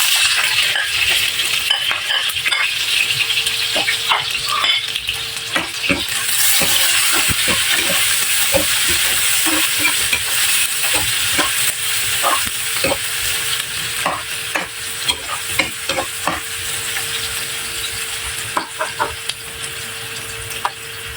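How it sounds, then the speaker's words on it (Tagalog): Onion sautés in a pan with browned garlic, sizzling and crackling steadily. Frequent small clicks and scrapes of stirring run throughout, with no talking. "So, ayan, nag-light brown na yung ating bawang. So, ilagay ko na rin yung ating sibuyas."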